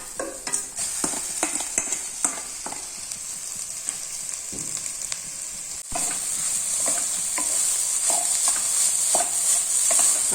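Boiled instant noodles with scrambled egg being stirred in a sizzling pan, with repeated scraping and tossing strokes over steady frying. The sizzle grows louder and more constant in the second half.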